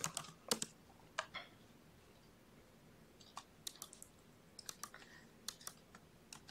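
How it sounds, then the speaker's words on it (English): Keyboard shortcuts are tapped on a Mac keyboard: scattered sharp key clicks in small bursts, close and crisp against a quiet background. "simply hit Command V on your keyboard"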